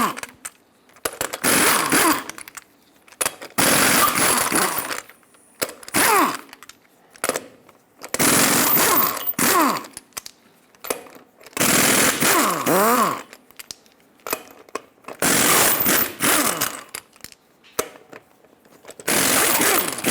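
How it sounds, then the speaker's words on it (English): Lug nuts being removed with a 22mm socket from the wheel of a Ford E-350 Super Duty van, heard as a series of loud, close, rattling mechanical bursts with rising and falling whine, separated by brief pauses. "Use a 22mm socket to remove all 8 lug nuts and then pull the wheel off."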